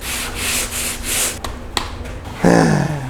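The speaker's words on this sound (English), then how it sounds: "the purpose of sanding down the mud is to get a flat surface" Hand sanding of drywall mud on a ceiling, loud close rhythmic rasping strokes that break off into a few scrapes, then a brief louder rub at the end.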